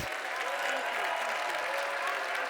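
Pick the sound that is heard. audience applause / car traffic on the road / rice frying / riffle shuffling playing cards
audience applause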